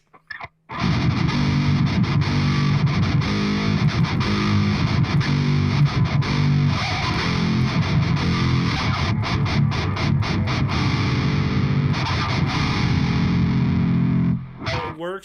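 Heavily distorted, very low-pitched guitar played through a pitch-shifter pedal, droning and churning for about fourteen seconds, loud and muddy, with strummed chords cutting in and out.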